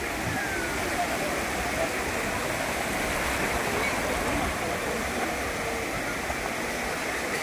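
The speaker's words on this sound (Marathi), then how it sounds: "समुद्र खवळलेला आहे." Rough sea at Gangasagar, where pilgrims come to bathe, producing a continuous loud roar of crashing surf and churning water, steady and broad throughout.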